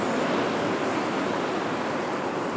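Ocean waves wash against a lava rock coastline at dusk, a loud, continuous broadband roar of surf with some wind, no talking.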